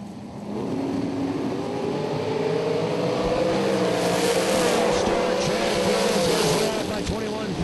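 At a drag racing event, a red dragster's engine roars, swelling loud and close and holding a strong, sustained growl as the car accelerates, with an announcer's voice faintly mixed in.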